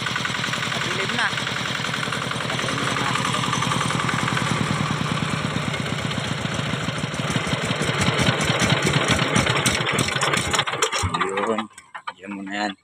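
A small engine idles steadily with a fast mechanical ticking rattle, loud and close, before cutting off near the end; someone speaks faintly underneath.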